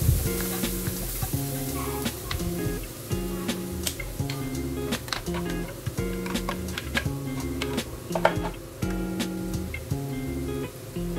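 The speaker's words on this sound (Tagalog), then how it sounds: "ilalagay na natin yung bawang at saka sibuyas na dinurog natin. Ayan, haluin lang natin hanggang maluto" Crushed garlic and onion frying in a pan for a shrimp dish, with a steady loud sizzle and crackle throughout and repeated scraping clicks as the pan is stirred, close up, with no talking.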